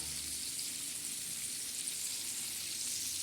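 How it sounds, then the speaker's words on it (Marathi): Pomfret fish coated in rava, red chilli, turmeric and salt, frying in a pan: a steady, close hiss of sizzling oil with no other sound. "हे पा किती छान असा खमंग असा मस्त मासा आपला तळत आहे"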